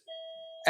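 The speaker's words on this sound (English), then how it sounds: "I apologize for the doorbell, by the way," A two-tone electronic doorbell chime rings steadily for over half a second, then a burst of louder noise cuts in at the end.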